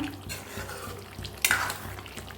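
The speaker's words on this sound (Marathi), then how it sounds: "पुन्हा एकदा मिक्स करून घेते" Thick, spicy village-style chicken curry stirred in a pan: soft, repeated scraping strokes of a spoon with a faint background sizzle, fairly quiet and close, one brief louder scrape partway.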